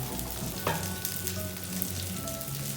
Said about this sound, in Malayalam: മറ്റേ സൈഡ് ഒന്ന് മറിച്ചിട്ടിട്ട് വേണം നമ്മളിത് ഫ്രൈ ചെയ്തെടുക്കാം